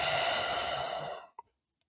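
A long, steady exhale during a yoga breathing exercise, close and soft, fading out after about a second with a small click at the end.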